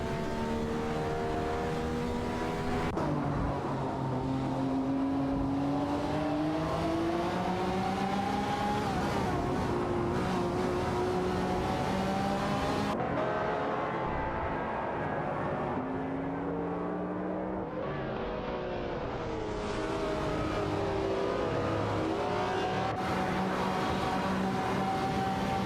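Engines of race cars, a McLaren F1 among them, in an AI racing video game, droning continuously and rising and falling in pitch as the cars shift gears and pass, fairly steady and mid-distance.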